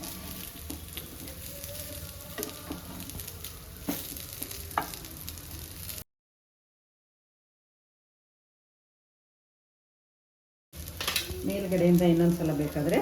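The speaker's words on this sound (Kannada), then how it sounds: "ಈಗ ಇದು ಒಂದು ಸೈಡ್ ಫ್ರೈ ಆಗಿದ್ದಿದೆ, ಮೇಲ್ಗಡೆನೂ ಎಣ್ಣೆ ಹಾಕಿದ್ದಿದೆ" Taro leaf patrode fry in coconut oil in a pan, a steady soft sizzle with occasional scrapes and clinks of a spatula turning the rolls, broken by a silent gap before louder sizzling and stirring return.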